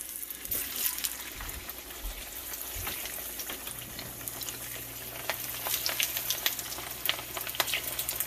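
Bluegill fish fry in hot grease with garlic and onion, a continuous bubbling sizzle peppered with sharp crackles and spits, growing busier toward the end over a low background hum; no talking.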